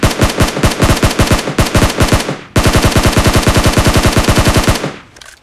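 SCAR-L assault rifle firing in PUBG Mobile, loud rapid full-auto bursts in a steady rhythm, a short break, then another long sustained burst that cuts off and fades.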